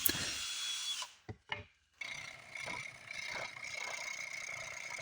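Scrap wood being sawn by hand gives a close, steady rasping cut, broken by a short pause and a couple of brief strokes before the sawing resumes with an even rhythm.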